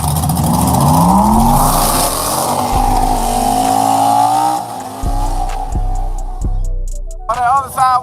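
Street race cars on 26-inch wheels accelerate hard, engines revving and climbing in pitch with a brief tire squeal, loud and close, before the roar fades into sharp ticking and a short whine.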